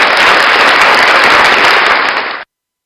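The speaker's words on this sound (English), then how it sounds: "I just got all these people applauding." An audience applauds loudly, dense continuous clapping that fills the room for about two seconds and then cuts off abruptly into silence.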